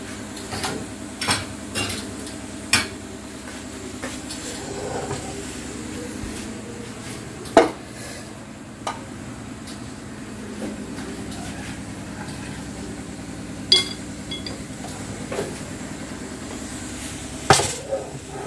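Kadai pans being shifted and lids set down on a home stove, giving scattered metallic clanks and knocks, a few sharp ones standing out over a steady low kitchen hum.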